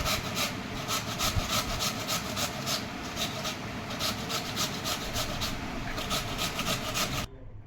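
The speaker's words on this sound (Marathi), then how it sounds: "अशा पद्धतीने काकडी आपल्याला किसून घ्यायचे एकदम बारीक" Cucumber being finely grated by hand, a dense, rhythmic scraping of quick repeated strokes that keeps on steadily and close with no talk, then stops abruptly near the end.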